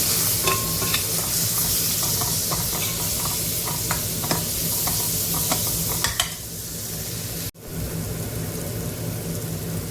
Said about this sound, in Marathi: मसाले छान भाजून घेऊया तेलामध्ये। टमाटे टाकूया,